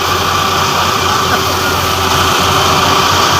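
A tractor engine idles loudly and close by, a steady droning rumble with a persistent low hum and constant mechanical tone, no talking heard.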